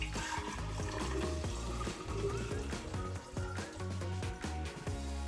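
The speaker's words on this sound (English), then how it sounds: "This white vinegar. Here we go. Pour it in." White vinegar pours steadily into a jar, a continuous gurgling trickle over low music lasting several seconds.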